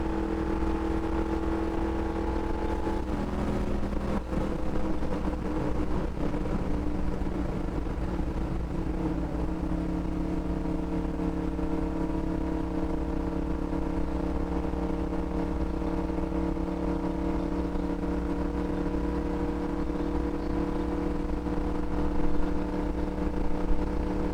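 A NASCAR stock car lapping Texas Motor Speedway, its engine droning steadily close by with a constant rumble and only slight swells, holding an even pitch throughout.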